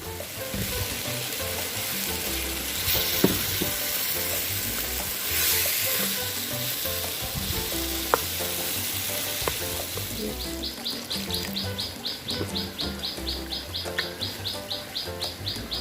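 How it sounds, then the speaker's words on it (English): Masala with chopped tomatoes and water sizzles steadily in a pan for an egg curry with ikan bilis and moringa. Occasional stirring knocks break the frying, and bird chirps repeat in the background toward the end. "I add in chopped tomatoes and some water to help the masala to be fried evenly"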